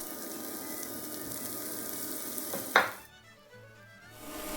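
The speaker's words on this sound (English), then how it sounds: "Lastly, I'm gonna brown my sausages." Sausages browning in a pot give off a steady hiss of frying fat, close and even, with a brief clatter before the sizzle drops away to near quiet.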